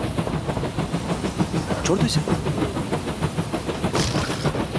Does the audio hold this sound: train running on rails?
yes